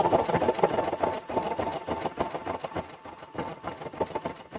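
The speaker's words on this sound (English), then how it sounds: "it does move the fabric from side to side as it's stitching" A sewing machine runs a wide side-to-side stitch across fabric for a portable tabletop gaming mat, a close, steady mechanical chatter with rapid rhythmic needle clicks and brief pauses.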